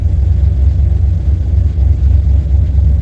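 A car engine fitted with FiTech fuel injection idles around 1,000 RPM, producing a steady, loud, low throbbing rumble with a slight rhythmic lope, heard up close and alone.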